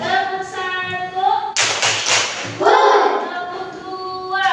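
Children in a classroom clap hands together in a short burst of sharp, rapid claps during a clapping game, set between stretches of a voice speaking and sung or chanted sounds.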